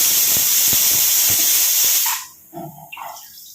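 A home kitchen pressure cooker vents steam in a loud, steady hiss for about two seconds, then cuts off, leaving faint kitchen clatter.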